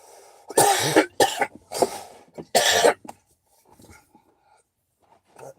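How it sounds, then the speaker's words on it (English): Several harsh, close coughs come in a quick fit, four loud bursts in a row, then quieter throat sounds trail off. "I've been dealing with this cough"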